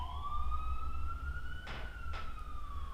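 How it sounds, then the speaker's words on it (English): A siren wails in a long, slowly rising and falling tone, moderately distant over low city traffic rumble, with a couple of brief bursts of noise. "Do you see sirens now blaring?"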